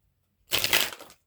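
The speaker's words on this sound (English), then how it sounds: "let's go ahead and shuffle" A single quick riffle of cards being shuffled, a brief fluttering burst lasting under a second, close and clear.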